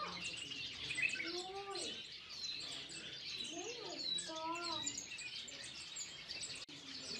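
Ornamental birds in a bird shop in the Netherlands chirp and whistle repeatedly at moderate distance, with varied short tweets and rising calls layered over soft indoor room noise.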